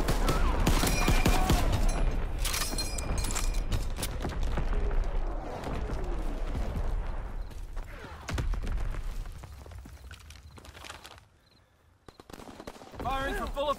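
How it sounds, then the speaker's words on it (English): Division artillery in a WWII shooter game fires in a dense, rumbling barrage of booms and crackling blasts that gradually thins out, ending with scattered impacts. "Firing division artillery."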